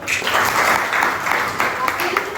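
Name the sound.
applause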